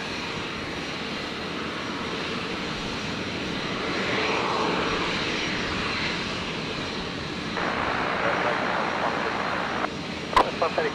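An airliner takes off from runway 01 right at Brisbane Airport, a broad, steady jet roar that swells and holds across the whole stretch, with faint radio chatter and brief clicks near the end.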